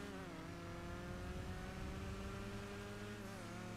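A sports classic car engine in GTA 5 Online drones steadily at high revs throughout, a continuous racing-game motor sound with a slight pitch rise near the end.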